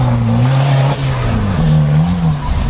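Demolition derby cars run practice laps on a race track, loud close engines droning and revving continuously with pitch rising and falling, some tire noise mixed in.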